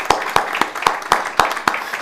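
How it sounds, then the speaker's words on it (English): Live audience at a stage event applauding, a run of separate sharp hand claps spaced evenly apart, close and fairly loud, more like a few people clapping in rhythm than a full crowd. "how about a round of applause for the red carpet for Tracy and Tiffany?"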